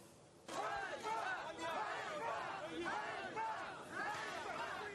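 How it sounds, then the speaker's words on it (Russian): A crowd in Kyiv shouts in repeated chanted bursts at President Poroshenko, distant and muffled, a rhythmic swell of voices rising and falling. "Крики «ганьба», «позор» сменились аплодисментами"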